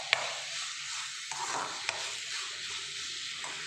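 Onions and tomatoes fry for egg curry in a pan, a steady broadband sizzle with a few sharp spatula clicks and scrapes as the mixture is stirred, close and continuous with no voices.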